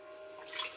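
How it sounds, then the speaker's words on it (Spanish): Half a litre of cream poured into a pot of rice pudding, a steady liquid rush that swells toward the end, close and alone. "y echamos también el medio litro de nata"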